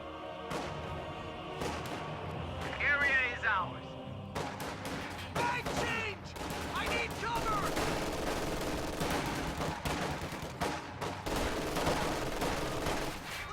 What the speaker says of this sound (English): You can see that they almost got wiped by that burst from the MG42.